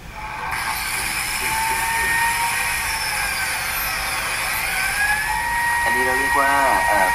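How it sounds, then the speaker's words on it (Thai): A biscuit joiner cuts a slot in wood for furniture assembly: a steady, loud, high motor whine runs throughout, and a voice joins near the end. "เครื่องบิสกิตการเข้ามาแบบบิสกิตก็คือเจาะให้เป็นร่องเดือยตัวเมีย"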